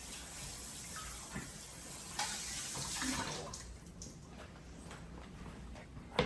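Tap water runs steadily into a sink while celery is washed under it, a faint broad hiss with small splashes and clatter near the end, no speech.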